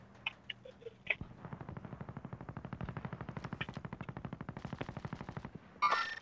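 Sustained automatic gunfire in the shooter game Call of Duty: Warzone (Modern Warfare), a long rapid burst of evenly spaced shots with a few scattered single shots before it and a sharp blast at the end.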